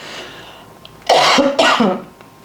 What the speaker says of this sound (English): may have a little cough